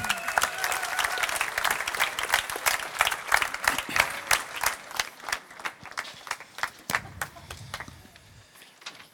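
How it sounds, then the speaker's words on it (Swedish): Audience applause at the prize ceremony of a cooking competition, crisp rhythmic clapping from a moderate crowd that thins and fades out toward the end. "bli applåderad av allihopa"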